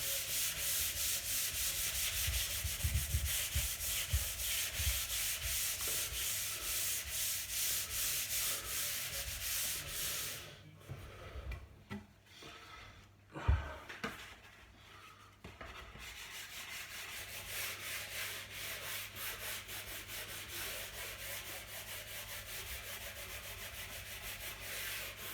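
Hand sanding of wood on a small bookcase, a steady rasping rub near and loud, with a brief pause and a few knocks midway before the strokes resume.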